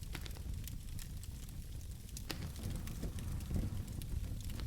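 Fire roars and spreads as a story sound effect, a dense crackling rumble with sharp pops scattered throughout, steady and unbroken with no speech.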